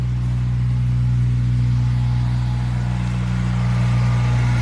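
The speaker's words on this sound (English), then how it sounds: "I hear a UTV coming up behind me" A UTV engine droning steadily as it comes up from behind, a constant low rumble that stays loud and unbroken throughout, with no talking.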